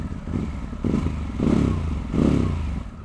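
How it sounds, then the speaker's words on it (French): Cold Harley-Davidson Pan America Special with an optional Screaming Eagle exhaust, revved in three short swelling blips over a low rumbling idle, close by with no talking. "il y a un pot Screaming Eagle"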